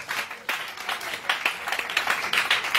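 Church congregation clapping and applauding during a worship service, with dense, uneven bursts of hand claps swelling and receding, fairly close and lively, with faint voices mixed in.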